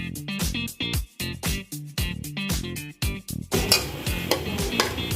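A spoon stirs yogurt and ghee into mutton liver in a pan over medium heat, clinking against the metal in a steady rhythm of loud scrapes and taps, then turning into a wetter, sizzling churn.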